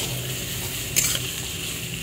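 Pointed gourd (potol) frying in oil tempered with black cumin, a steady close sizzle with faint stirring and a brief clatter of a utensil near the middle.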